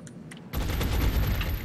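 Video game gunfire erupts suddenly into a loud, sustained burst of rapid shots that fills the rest of the moment, with no talking.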